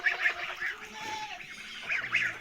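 Goslings honk in a farmyard with a run of short, squawking calls that come close and fairly loud, then pause and start again.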